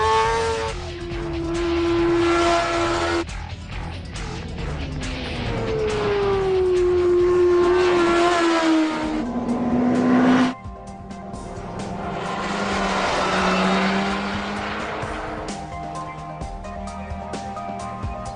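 A Kawasaki supermoto motorcycle engine producing nearly 200 horsepower revs in several long, rising and falling runs, a loud, close mechanical whine that drops off between pulls, with no speech.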